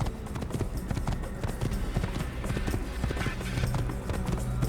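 Horse hooves clip-clop in a quick, steady rhythm while riding in Assassin's Creed 1 on the road to Damascus, a close, continuous trotting patter with a faint game background.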